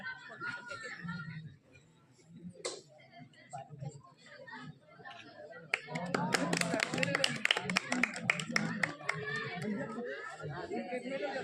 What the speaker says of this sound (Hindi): ताली बजा देना